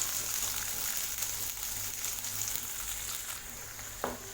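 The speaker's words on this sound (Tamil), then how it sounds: "இதோட நான் ஒரு 10 சின்ன வெங்காயம் கட் பண்ணி வச்சுருக்கேன். அதையும் போட்டுடலாம்." Ten chopped small shallots fry in a pan for chow chow sambar, giving a soft, steady, close sizzle with a faint click near the end and no speech.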